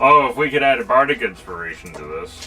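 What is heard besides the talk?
No distinct noise like a dog, phone or traffic.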